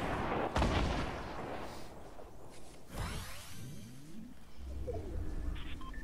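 Grenade explosions in the Fortnite battle royale game, with a sharp blast followed by rumbling booms and whooshes at moderate distance, plus softer bursts later. Bird-like coos mix in, and the overall level is fairly quiet.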